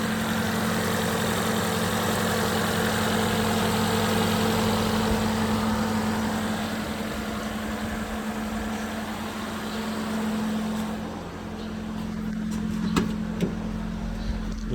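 A 2004 Lexus LX engine idles steadily with a constant low hum and drone throughout, close and even, with slight changes in the final seconds and no talking.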